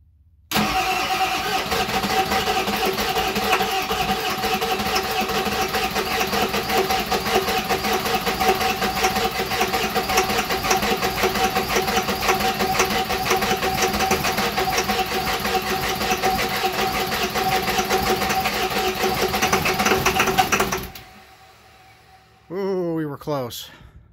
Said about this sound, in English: That starter's probably going to need a break here pretty soon, but let's try it again for just a couple seconds